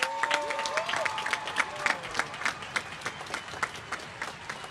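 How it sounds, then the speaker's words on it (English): Sustained applause from a high school graduation crowd, dense clapping filling the hall without pause, with faint voices mixed into the background. "Please give them a round of applause."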